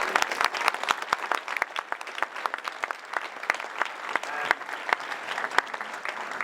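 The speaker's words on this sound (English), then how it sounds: "Just stop there and give him applause." Seminar audience clapping in applause, a lively burst of many hands with crisp, irregular claps, close and fairly loud, continuing steadily without speech.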